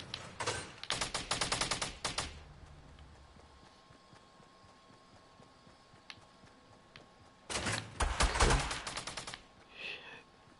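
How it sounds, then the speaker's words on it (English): Two rapid bursts of silenced SMG fire from Fortnite: a dense rattling volley early on, a long quiet stretch, then a second close, loud burst. Faint game sounds fill the gap. "Do you guys like the new SMG they added with the silencer?"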